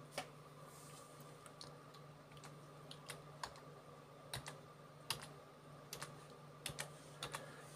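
Someone types a command on a computer keyboard, a sparse run of irregular light key clicks and taps, close and quiet over a faint steady hum, with no talking.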